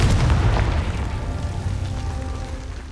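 A Confringo fire spell explodes in the Hogwarts Legacy video game inside a goblin mine, a loud booming blast with a deep rumbling tail that rolls on for several seconds.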